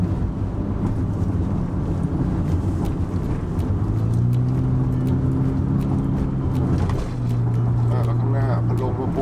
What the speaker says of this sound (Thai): เหยียบคันเร่งออกไปเลย